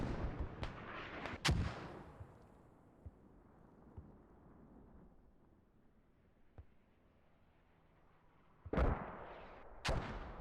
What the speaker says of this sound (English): These mortars are really pushing in a number for them.